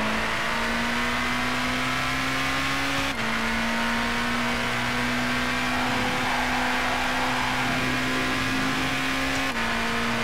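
A race car in the video game Gran Turismo 5 holds a steady, loud engine drone at full throttle, its pitch staying nearly level with brief dips at two gear shifts.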